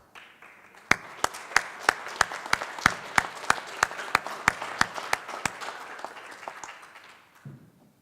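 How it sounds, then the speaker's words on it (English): A forum audience applauds political candidates for Alaska governor, a moderate, room-filling round of clapping with a few sharp, close claps standing out in a regular rhythm, tapering off near the end. "give them a round of applause"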